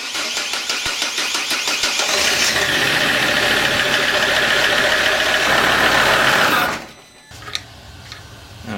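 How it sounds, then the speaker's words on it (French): A SsangYong Rodius van engine cranks and catches, then runs at a steady, loud idle for several seconds before being shut off, leaving a quieter tail with a few small clicks. "Je vais démarrer le moteur quelques secondes pour actionner la pompe de la direction assistée"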